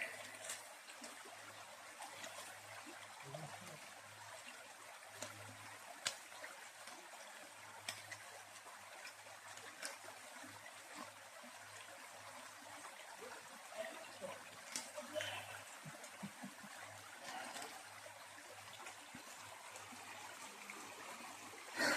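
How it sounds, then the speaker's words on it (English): Steady water trickling and flowing over rocks in a creek on the Appalachian Trail in Virginia, a continuous soft rush with a low hum underneath, fairly quiet throughout. "We are at our first creek fording."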